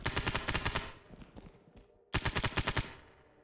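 Automatic gunfire in the tactical shooter Ready or Not, two close, loud rapid bursts of roughly ten shots each, separated by scattered fainter shots and a brief lull.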